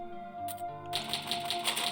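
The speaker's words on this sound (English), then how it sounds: "Let's save on this shitty typewriter." Typewriter save sequence in Resident Evil HD Remaster: a short chime, then a run of six evenly spaced mechanical key clacks, close and distinct over a faint background hum.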